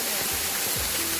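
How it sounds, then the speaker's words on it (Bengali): A roadside waterfall of cold water near Aizawl, Mizoram, on the route to Reiek, gives a dense, steady rushing roar heard up close for a brief moment. "চলো, কি সুন্দর ঝর্ণা।"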